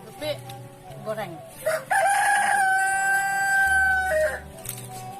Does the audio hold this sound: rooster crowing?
yes